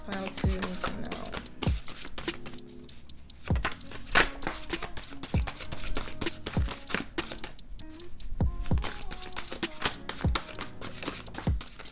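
A deck of tarot cards is shuffled by hand, with repeated crisp riffling and slapping bursts and sharp taps, close and clear, continuing steadily for the whole stretch.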